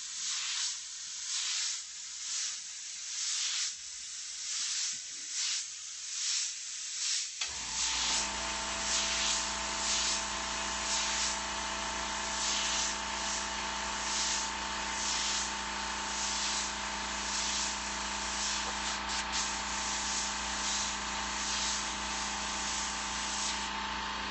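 A compressor kicks on partway through and runs steadily and loud, with a low drone under bursts of airbrush spray hiss used for painting tag block lettering.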